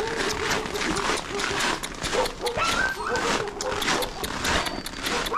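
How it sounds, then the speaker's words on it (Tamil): Siberian husky sled dogs tied up at an icy outdoor market in extreme cold yip, whimper and bark continuously in a dense, overlapping chorus, with a voice talking now and then amid the din. "இங்கே பாருங்க, நாய் கட்டி வச்சுருக்காங்க ஸ்லெட்டிங்க்கு."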